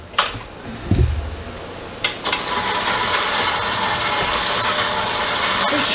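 An electric mixer whirs steadily in a bowl of banana chocolate chip bread batter, starting after a few clunks and knocks and then running continuously and fairly loud.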